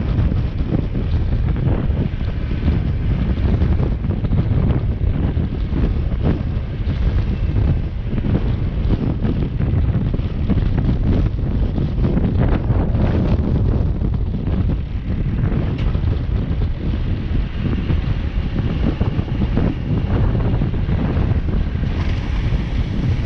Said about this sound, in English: it's wind blowing in the wrong direction